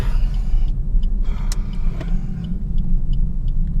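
A car drives along a road, heard from inside as a loud, steady engine and tyre rumble with a few faint clicks and knocks.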